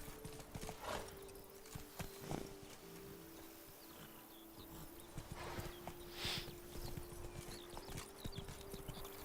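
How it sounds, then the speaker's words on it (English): Horse hooves pound steadily in The Witcher 3: Blood and Wine as a horse moves along, a continuous rhythmic clatter over a low game ambience, fairly quiet with an occasional snort. "That's it, Roach. Giddy up."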